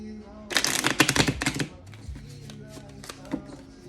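A quick, dense run of papery flutters and clicks, a deck of tarot cards shuffled close by, then quieter shuffling sounds with a faint hum.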